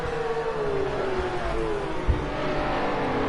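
A KC M1 race car engine in the racing game Project Cars 2 drones and revs steadily at high pitch over bumps at Monza, continuous and close, with a brief thump midway.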